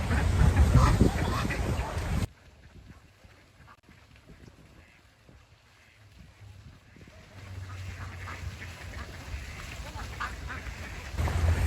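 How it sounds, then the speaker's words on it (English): Ducks and geese quack and honk outdoors, loud in bursts at the start and end, with quieter calls and ambient wind in the middle and no speech. "The ducks and geese are incredibly happy right now."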